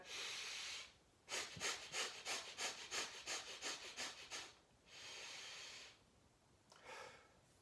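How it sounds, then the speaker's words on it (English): Slow deep breathing exercise: a long airy inhale, a rapid series of about a dozen short rhythmic breath pulses, then two more long steady breaths, close and clear with no talking. "So what you can do is take a deep breath again."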